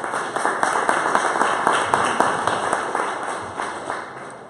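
Audience applause at a civic tech conference, a steady wash of many hands clapping at moderate distance with individual claps popping through, sustained evenly for several seconds.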